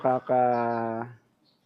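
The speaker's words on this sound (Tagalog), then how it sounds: "Gusto ko marinig yung mga huni nila bago kasi sila pakawalan sa gubat." Captive alimokon birds give a short low cooing call and then a longer sustained one, close and fairly loud, with silence after.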